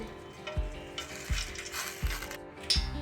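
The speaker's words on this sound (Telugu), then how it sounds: "పోపు దినుసులు వేసుకోవాలి" Whole spices tempering in plenty of hot oil for a fish curry, a steady close sizzle with short bursts of crackle and spatter recurring about every three-quarters of a second, no talking.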